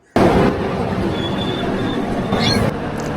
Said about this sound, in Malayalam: ട്രെയിനിൻ്റെ ഡീസൽ ജനറേറ്റർ ഓണാക്കിയതാണ് ഈ സൗണ്ട് കേൾക്കുന്നത്.